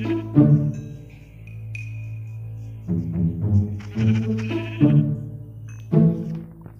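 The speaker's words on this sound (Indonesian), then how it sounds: "Ada lagi domba" Sheep in the video game Minecraft bleat several times in short, nasal calls, close and clear over a low steady background hum, with no talking.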